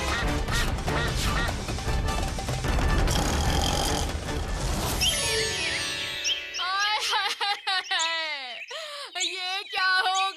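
Cartoon duck quacking in a rapid series of nasal squawks, loud and close, following a stretch of busy music and crashing sound effects.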